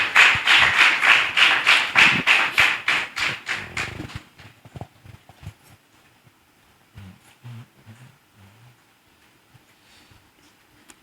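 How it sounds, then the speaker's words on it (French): A church congregation claps in rapid rhythmic unison, loud and close, for about four seconds before fading into quiet room noise with faint murmurs. "Applaudis pour le roi des rois."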